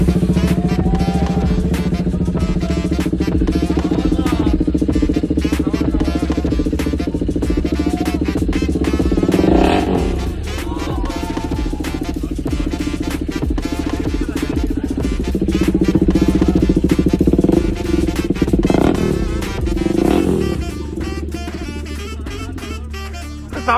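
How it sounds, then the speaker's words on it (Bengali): A KTM RC 390 motorcycle fitted with a full-system aftermarket exhaust revs loudly and continuously, its deep engine roar swelling and dropping with throttle blips for the whole stretch, close to the listener with no talk over it. "গাইস এবার চেক করো ফুল সিস্টেম এক্সস্টের সাউন্ড।"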